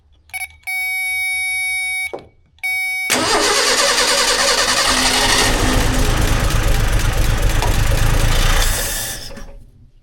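An old car that had sat unused for almost 15 years: a few electronic chime tones, then the engine cranks, catches and runs loud and steady before cutting off near the end.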